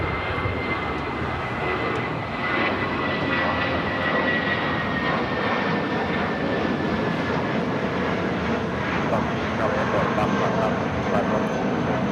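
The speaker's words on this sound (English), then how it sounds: "7855 taking off to Aguascalientes on the A320" A Volaris Airbus A320 jet takes off at Los Angeles airport, its engines producing a continuous, loud, broad roar with a faint high whine running through it for the whole stretch.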